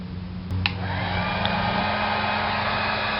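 A heat gun blows steadily on vinyl tint applied to the third brake light of a 1999-2004 Mustang, a continuous close whooshing airflow with no breaks.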